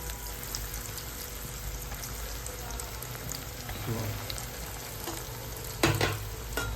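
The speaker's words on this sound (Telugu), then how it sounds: "వీటిని బ్రౌన్ కలర్ వచ్చేంత వరకు వేయించుకోవాలి" Bread slices frying in hot oil until brown for double ka meetha, a steady close crackling sizzle with occasional stirring scrapes and a brief louder clatter near the end.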